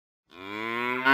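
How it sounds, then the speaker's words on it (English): A cow gives one rising moo that starts after a short silence, then holds loud and strong, swelling a little near the end; close and clear, with no other sound. "One day, a cow came in."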